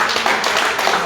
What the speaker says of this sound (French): Ça mérite des acclamations quand même.